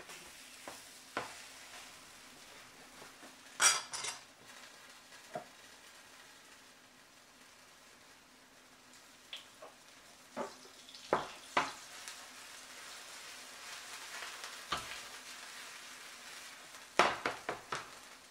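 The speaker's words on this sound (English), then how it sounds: "you'll cook this for about 4 minutes, and you'll flip it and cook for another 3 to 4 minutes until the sides are golden brown" Mung bean batter pancakes (bindaetteok) with bacon and kimchi sizzle steadily in a hot pan, with occasional scrapes and clinks of a spatula against the pan rising above the low frying hiss.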